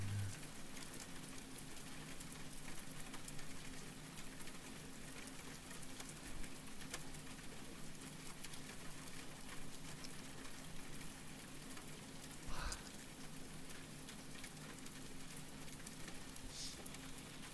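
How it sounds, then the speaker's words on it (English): Steady rain falls on a surface during a heatwave, a constant soft patter that holds level throughout with a single brief bump partway through, fairly quiet and with no talking. "Rain, the hard worker."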